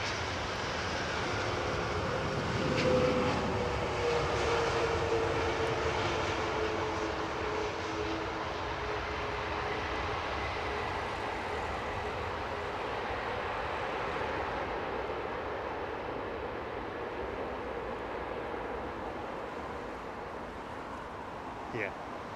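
A Delta airliner landing on runway 27R at London Heathrow gives a steady, broad jet roar that rises slightly and then settles, with people chatting quietly nearby.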